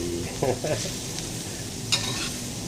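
Preserved radish (chai po) stir-fried with egg, frying to a light char. Steady sizzle with scraping spatula strokes, a couple of stirring bursts early and another near the end, close and moderately loud.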